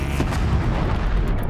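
Machine gun fire in the video game Horizon Zero Dawn: a dense, loud rumble of booming shots and blasts with no clear gaps, close and without talk.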